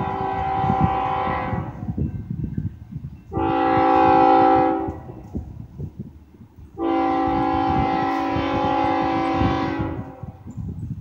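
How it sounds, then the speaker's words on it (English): Train horn sounding near a rail crossing in three long blasts, the first and third longer, with the last stretching about four seconds, over a low rumble of the passing train. "Right after we parked, we heard the horn."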